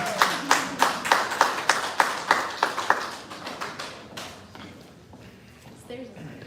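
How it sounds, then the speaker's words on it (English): An audience at a holiday donor reception claps for an award, a sharp burst of close rhythmic handclaps that fades after a few seconds into quieter room noise. "Cora Jackson, let's give a round of applause, please"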